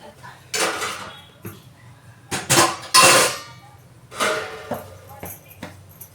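Fitting metal lid set onto a cooking pot on the stove: a series of close, ringing clanks and clatters of metal cookware come in uneven bursts, with a quiet background hum between them.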